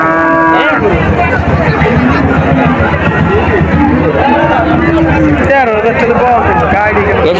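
Loud cow moos rise from a noisy cattle market in Porahdanga, Narail, Bangladesh, close by, with people talking over the constant crowd chatter.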